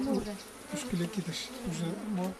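Wild honey bees buzz continuously at close range, a steady droning hum that rises and falls as insects move about, with no talk over it.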